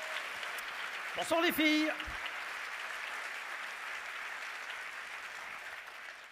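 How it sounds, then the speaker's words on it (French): Audience applause at a Béarn awards evening, a steady wash of clapping at moderate distance, with a brief spoken greeting over it early on. "j'aimerais qu'on les applaudisse tous les deux très fort, s'il vous plaît"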